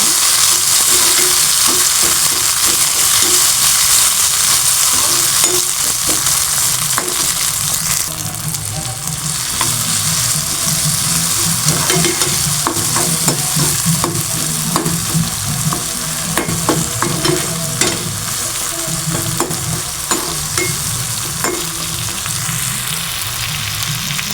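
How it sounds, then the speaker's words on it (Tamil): Tomatoes sauté in a hot pan for poduthalai kuzhambu, with a loud continuous sizzle broken by frequent scraping strokes of a spoon stirring them. It sounds close and busy, with no talking. "அந்த தக்காளியும் நல்லா போட்டு நல்லா வதக்கிக்கலாம்"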